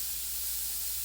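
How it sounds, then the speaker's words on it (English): An airbrush sprays transparent paint in a steady, even hiss, close and unbroken throughout. "I can spray right over the darker"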